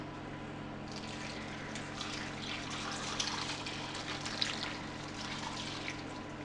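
White vinegar pours steadily over apples, onions, sugar, sultanas and spices in a pot for cucumber chutney, a soft continuous liquid trickle and splash under a faint background hum.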